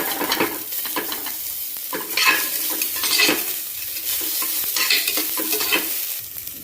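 Onions frying lightly in a pressure cooker, the pot given repeated scraping stirs over a steady, moderate sizzle with no voices.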